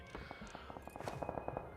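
Distant gunshots crack out in the PUBG video game as a scattered run of sharp, faint pops over a steady background hum.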